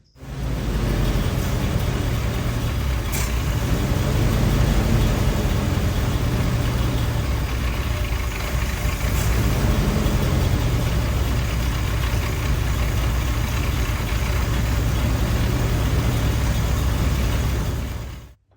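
The rough engine of a 1946 Willys CJ2A jeep, left sitting in a forest for over 40 years, idles continuously, a low, uneven rumble with a slight shake that runs steadily without revving.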